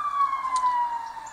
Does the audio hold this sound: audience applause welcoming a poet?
no